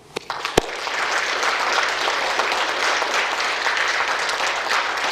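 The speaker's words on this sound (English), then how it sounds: "please join me in a hand of applause for Mason and his parents" Audience applause at an Eagle Scout court of honor, with a few sharp early claps that quickly swell into dense, sustained clapping from a sizable crowd filling the room for about five seconds.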